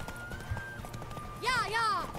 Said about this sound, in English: My horse is running out of stamina.